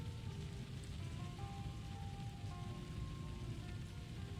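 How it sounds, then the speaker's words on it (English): Steady rain drumming on a roof inside an inn in the video game Skyrim, a continuous even hiss of dense drops heard from indoors, moderately quiet and unbroken, with no voices. "it's the rain on the roof"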